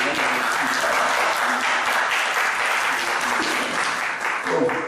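A Korean Baptist church congregation claps together for newcomers, a loud, sustained burst of applause with a voice talking over it now and then.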